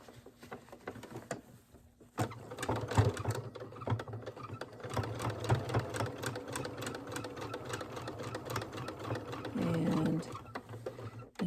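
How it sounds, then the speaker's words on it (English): A sewing machine back stitches a fabric grocery sack holder. After a quiet start it runs in a steady, close, rapid needle patter that continues to the end with brief changes in speed. "And I'll do a little back stitch on it,"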